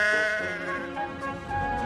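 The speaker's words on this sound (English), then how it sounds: "Some careless sheep had strayed onto the line." A sheep that has strayed onto a railway line bleats in a long wavering cry, loud and close, with no voices heard alongside.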